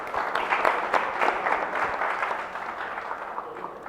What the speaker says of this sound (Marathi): वरूनसाठी पण टाळ्या वाजवूया आपण एकदा.